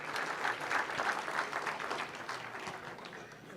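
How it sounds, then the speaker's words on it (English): Audience applause at the close of a business conference session, a dense, steady clapping from a sizeable crowd that slowly thins toward the end, with no speech over it. "The applause for that session, ladies and gentlemen, should be louder"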